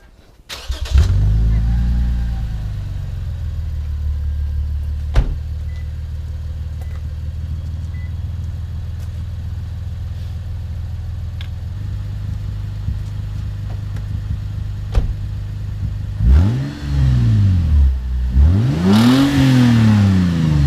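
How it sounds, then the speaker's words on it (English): Car with a loud, modified exhaust cranks and fires up, settles into a steady, rumbling idle for several seconds, then gets several sharp revs that rise and fall in pitch, heard close and loud. "I'm just going to go start up the car, see how it sounds"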